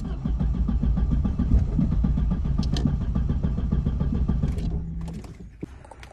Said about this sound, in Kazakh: Газды басып тұрмын, кішкене. Оборот ұстай ма, ұстамай ма білмеймін.